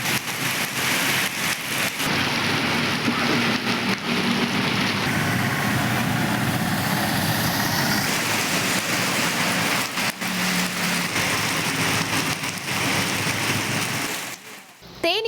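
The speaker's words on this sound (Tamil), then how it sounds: "தென்காசி மாவட்டத்தில் திடீரென இடி மின்னலுடன் கூடிய கனமழை பெய்தது." Heavy rain falls in Tenkasi district as a dense, steady hiss that stays loud throughout, with some vehicle rumble mixed in underneath.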